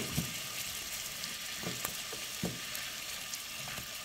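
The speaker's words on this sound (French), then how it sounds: "mes ingrédients sont gentiment en train de cuire" Ingredients cook gently in a pan with a continuous mellow sizzle, broken by a few quick clicks and scrapes of stirring, and no one speaks.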